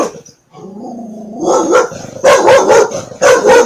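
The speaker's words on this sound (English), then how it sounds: "To hear some puppy dog barking." A puppy barks in a run of sharp, loud yaps, the later barks coming in quick, close bursts with short gaps between them.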